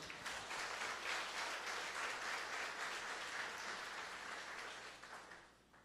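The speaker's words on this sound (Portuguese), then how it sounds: "Você pode aplaudir o Senhor?" A church congregation applauds during a Lord's Supper service, a soft, distant, even roar of many hands clapping that holds steady and then fades away near the end.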